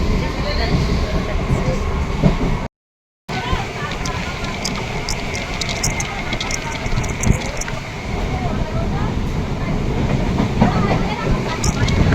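Steady rumble of a passenger train heading toward Canning station, continuous rolling noise with faint clicks and rattles, one short dropout partway, loud and close from inside the carriage.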